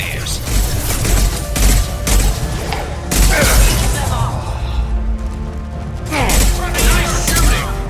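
Bursts of gunfire in Mass Effect 2, repeated heavy volleys and impacts in uneven clusters with brief pauses, loud and close, mixed with clanks and explosions.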